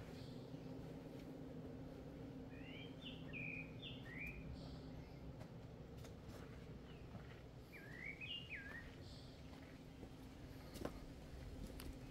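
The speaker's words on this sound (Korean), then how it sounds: "새소리가 기가 막히네." Small birds sing faintly in a quiet garden at the Dasan Chodang exile site, two brief bursts of chirping phrases separated by a pause over a steady low outdoor hum.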